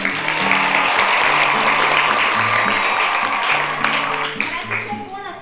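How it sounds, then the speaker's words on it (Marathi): An audience at a school event bursts into sustained, loud clapping in honour of an English teacher, lasting several seconds and fading slightly at the end, with voices mixed in. "आंबेकर मॅडमसाठी जोरदार टाळ्या."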